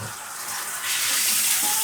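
Steady hissing rush of running water from a salon tap or shower head while washing hair, close and continuous, growing slightly louder partway through.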